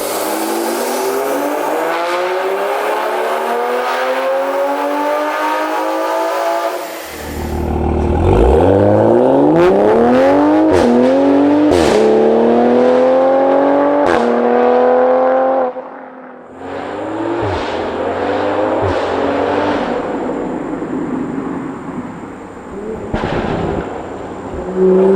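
Toyota A90 Supra with an upgraded exhaust and downpipe, loud and close, revving hard under boost: a long rising pull, then sharp repeated blips and crackles, ending in a steadier rumble with a few pops.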